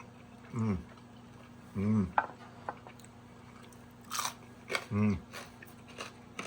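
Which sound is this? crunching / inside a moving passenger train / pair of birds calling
crunching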